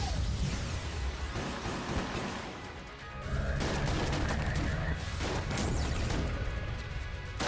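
Enemy gunfire in the game Enter the Gungeon, a dense continuous barrage of rapid shots and crashing impacts with bullets bouncing, loud and close throughout with a brief dip near the middle.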